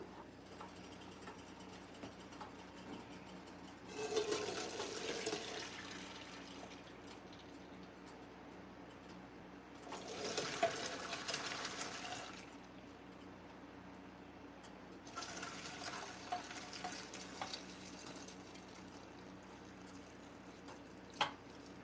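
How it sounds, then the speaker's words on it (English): Liquid from ackee drains through a kitchen strainer in three separate splashing bursts with quiet pauses between them, fairly faint and with no talking. "I'm just going to pour the ackee inside the strainer so that we can"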